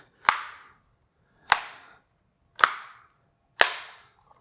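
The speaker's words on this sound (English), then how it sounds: "You just fold the little landing gear feet." Four crisp, sharp snaps ring out at even intervals in near silence as the small landing gear feet of a compact folding drone are clicked into place, each one close and distinct.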